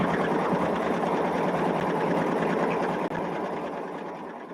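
A sewing machine runs steadily while stitching a jelly roll sampler quilt block. Its loud, continuous whirring hum barely pauses for the whole stretch, with no voices.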